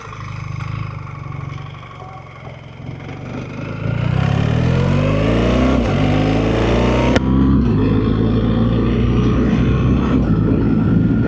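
A BMW R1300 GS motorcycle engine idles close by, then revs up and holds a loud, rising drone.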